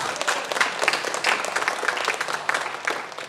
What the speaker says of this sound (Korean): 우리가 박수를 한번